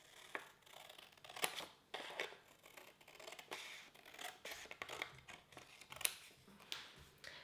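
Scissors snipping along the straight edge of a paper sewing pattern piece, a close series of crisp, irregular cuts and rustles with no voice.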